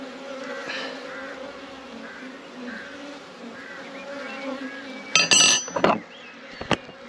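Honey bees buzz steadily around a nuc hive during a colony split inspection, a continuous close insect drone with a brief louder burst of clinks and handling noise near the end.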